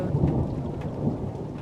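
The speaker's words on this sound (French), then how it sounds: "l'orage" Rumbling thunder rolls over steady rain in a thunderstorm from the haunted-location horror video game Deathwatch, a continuous low, loud wash with no voices.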